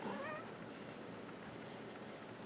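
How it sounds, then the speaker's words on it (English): A cat's short meow right at the start, faint against steady soft background hiss in a quiet indoor room, followed by near silence. "The therapy cat's here."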